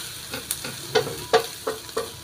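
Food browning in a frying pan, with a steady low sizzle under a handful of sharp utensil scrapes and taps against the pan, evenly spaced and close by.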